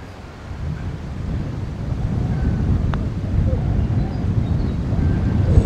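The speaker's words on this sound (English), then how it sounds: "the wind's coming from that direction" Steady wind rushes across an open golf course at Tenterfield Golf Club, a constant low buffeting roar against the microphone that slowly builds in strength, with no voices.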